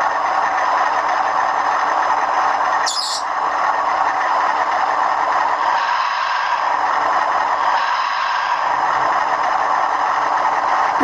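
A model Class 37 diesel locomotive on a model railway runs slowly along the track, giving a steady engine hum with faint mechanical rattle, a brief sharp click near the start and no talk.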